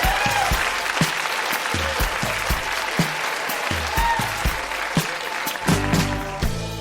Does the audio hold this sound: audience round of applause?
yes